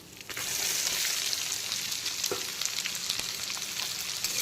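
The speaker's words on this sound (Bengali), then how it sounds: "পেঁয়াজ কুচিটাকে হালকা বাদামি কালার করে ভেজে নিতে হবে" Chopped onions frying in oil over low to medium heat after bay leaf and whole spices, for a prawn curry. A constant dense sizzle with scattered sharp crackles and pops, close and unbroken.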